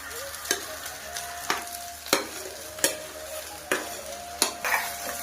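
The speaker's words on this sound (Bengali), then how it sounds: "এবার ভালো করে মিশিয়ে নেব।" Chowmein noodles stir-fried with fried vegetables in a village-style kitchen, a continuous sizzle broken by sharp, regular scraping strokes of the spatula against the pan roughly every half second to second.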